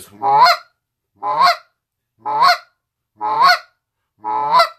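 Goose call blown to imitate a steady tempo goose honk, five evenly spaced, loud, close honks about one second apart, each a short rising-falling reedy note with silence between.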